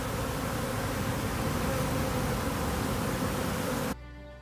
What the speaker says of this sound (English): How many bees is that?